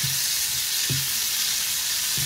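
Shrimp fry in a pan with a constant dense sizzle, loud and close, broken by a few soft stirring knocks at irregular intervals and no talking.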